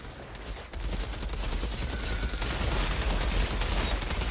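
A minigun fired in Outriders: after a brief quiet lead-in, a loud, continuous rattling burst of rapid machine-gun shots runs steadily to the end.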